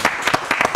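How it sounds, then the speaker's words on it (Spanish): Audience applause at a Comic-Con 2022 show segment during a prize handover, brief bursts of clapping from a small crowd, fairly close and lively. "Un aplauso."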